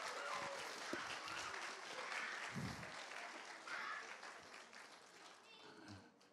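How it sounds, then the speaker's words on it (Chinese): An audience in a church applauds a children's Christmas performance, the broad clapping continuing steadily and then tapering off, with a voice talking over it and some low thumps. "再给他们一个精彩的掌声。"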